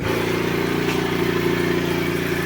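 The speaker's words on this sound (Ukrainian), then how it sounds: "От, генератор запрацював, вімкнулася станція, напор став більший." A Konner&Sohnen BASIC KSB 22i S inverter generator runs under load, giving a continuous, even engine hum close by with no talk.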